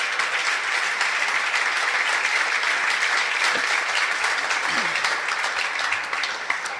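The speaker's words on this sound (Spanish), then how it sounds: "Denle un fuerte aplauso a Jesús" A church congregation at a Spanish-language sermon gives loud, continuous applause, a dense wash of clapping sustained throughout with a slight dip near the end.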